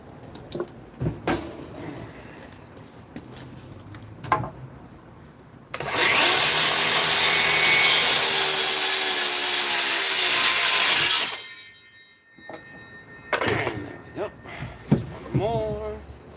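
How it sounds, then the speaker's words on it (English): Wooden boards being cut with a saw, a loud steady rasping burst lasting about five seconds, close by, with short knocks and handling noises before and after. "Just gotta cut these boards"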